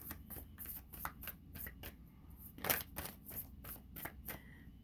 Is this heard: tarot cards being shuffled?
yes